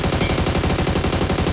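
Rapid automatic gunfire from PUBG Mobile's Metro Royale mode, a loud continuous burst of evenly spaced shots filling the whole moment.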